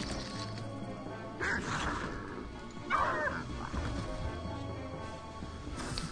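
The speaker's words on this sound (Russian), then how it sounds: "Еще одна выбежала собачка." A dog barks in the Neverwinter Nights video game, giving a few short yips and whimpers over a busy game background of rumbling and clatter, at moderate loudness.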